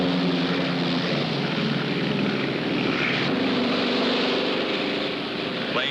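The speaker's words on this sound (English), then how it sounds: "Penny, the next time you round the pylon, give her full gun and keep her nose down." A propeller airplane at full throttle, rounding a racing pylon, gives off a loud, continuous engine roar with a steady buzzing drone that never lets up, close and dominant throughout.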